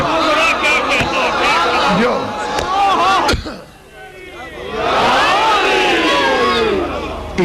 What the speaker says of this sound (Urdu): یہ میں ہاتھ جوڑ رہا ہوں، نعرے نہ لگاؤ.